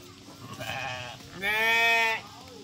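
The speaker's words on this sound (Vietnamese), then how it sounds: "Đây là con dê ha, là những con dê." Goats bleat at a farm attraction near Cu Chi, two long wavering calls, the second louder and closer, over a faint outdoor background.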